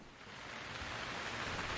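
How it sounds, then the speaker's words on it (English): Steady rain falls as a dense, even hiss, unbroken and fairly soft, with no other sounds. "The next few days were pretty rainy,"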